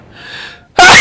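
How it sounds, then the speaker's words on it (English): Luigi sneezes in the video game Luigi's Mansion: a soft building inhale, then one loud, explosive sneeze bursting at the end, close and alone. "Hold it. I'm gonna sneeze."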